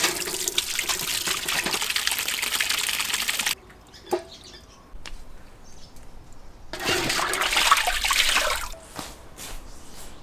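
Running water from a tap gushes loudly over a blanched pig head being rinsed, stopping for a few seconds with scattered drips and knocks before flowing again, with no one talking.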